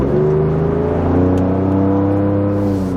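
A 2021 truck with an AWE Tuning single rear exit exhaust revs steadily under light throttle, making a loud, continuous, deep drone that holds throughout with no talking.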